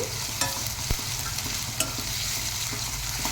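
Raw banana slices with ginger-garlic paste fry in a pan, giving a steady close sizzle broken by a few sharp clicks and scrapes as they are stirred, with no talking.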